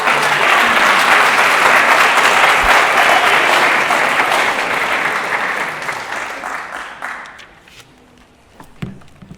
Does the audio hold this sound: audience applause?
yes